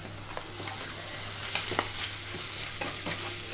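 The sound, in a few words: spices and green chillies frying in oil for boondi curry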